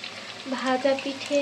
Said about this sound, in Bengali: এখন ভাজা পুলি ভাজা হচ্ছে, ভাজা পিঠে